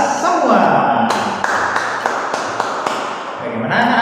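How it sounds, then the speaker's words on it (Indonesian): A classroom-style group gives a burst of hand clapping mixed with cheering voices, loud and close, with scattered individual claps standing out. "Hey, beri tepuk tangan untuk kita semua"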